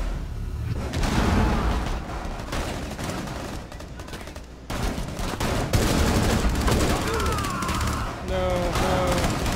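Rapid gunfire from the video game Rainbow Six Siege in a team deathmatch bomb round on the Consulate map, loud dense bursts and shots filling most of the span, with a brief lull midway and players' voices talking over the action.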